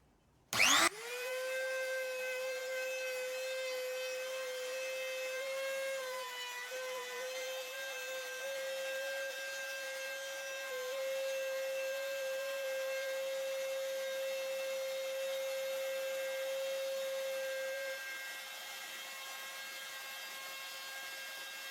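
Router cutting into a guitar body to route a tremolo cavity on a Squier Bullet Mustang: a loud, steady high-pitched motor whine with cutting noise runs for about seventeen seconds after a sharp start, then winds down.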